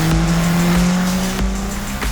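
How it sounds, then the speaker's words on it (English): Praga race cars scream past at close range in a loud racing engine drone, with tyres squealing through a corner and brief pass-by surges. "Whoops, Ben Stone's gone off, runs wide through Goddard."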